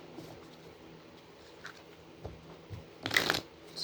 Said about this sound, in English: I didn't come here to shuffle